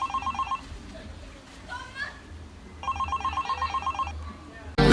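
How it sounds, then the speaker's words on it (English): A telephone rings in two bursts of rapid trilling electronic beeps separated by a pause, fairly loud and close, while people speak over it. "answer your phone"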